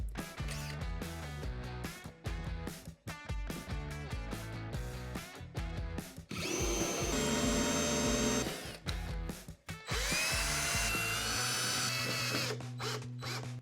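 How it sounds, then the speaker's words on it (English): A power drill drives screws through wood slat panels into a wall, whirring in repeated close bursts with rising pitch, separated by short pauses and handling clatter. "The best solution is to screw them directly into the wall."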